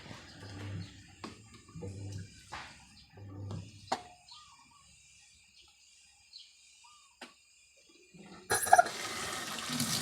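Water flows into an 11 kg LG automatic washing machine that has a slow water-inlet fault. Faint, intermittent splashing and trickling bursts come with quiet gaps, then a louder, sustained rush of water near the end.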